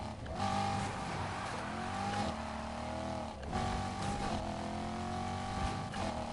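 A V8 car engine in the racing video game Need for Speed Heat roars loud and close, rising in pitch through repeated gear shifts with brief dips between them, and no talking over it.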